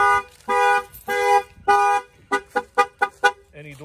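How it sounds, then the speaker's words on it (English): A Ford Transit van alarm blares nearby, first in long sustained tones, then in short rapid chirping bursts, loud and alone. "that will fire off the alarm"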